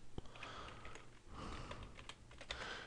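Computer keyboard keys tapped in quick bursts while search words are entered, close and fairly quiet, with brief pauses between clusters of keystrokes and no talking.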